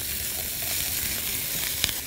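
Onion slices and a little pepper frying in ghee in a pan, giving a steady close hiss with a few sharper pops and crackles near the end.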